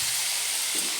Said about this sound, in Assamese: ধুনীয়াকৈ ফ্ৰাই কৰি ভাজি ল'ম।